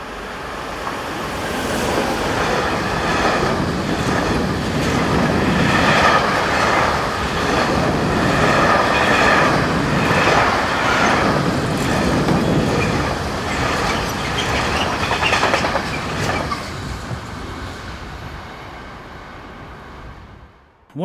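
Freight train of Austrian cargo wagons running from Wolfurt toward Moerdijk, passing close and loud with rumbling wheels, rhythmic clatter and intermittent squeal, fading away at the end, no speech.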